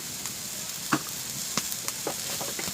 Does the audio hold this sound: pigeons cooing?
no